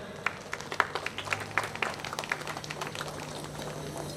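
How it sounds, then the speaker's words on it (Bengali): A crowd claps at a neighbourhood blood donation ceremony as a minister is garlanded with a bouquet, a scattered, fairly faint patter of hands with distinct sharp claps over a low steady hum. "একটু হাততালি দেবেন।"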